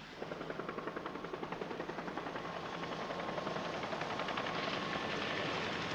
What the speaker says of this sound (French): Ces départs précipités en hélicoptère pour fuir à l'approche de l'ennemi